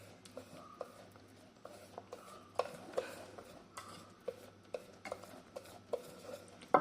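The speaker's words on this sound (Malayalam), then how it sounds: "ഞാൻ നന്നായിട്ട് മിക്സ് ചെയ്യട്ടെ." Ragi carrot cake batter mixed with sunflower oil in a bowl, soft scraping strokes with a spoon tapping the rim at regular intervals, close and fairly quiet.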